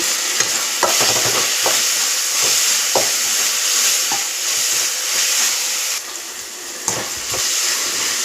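Chicken liver masala with salt and turmeric frying in a pan as it is mixed: a loud, continuous sizzle with scraping stirring strokes, heard close up and without any voices.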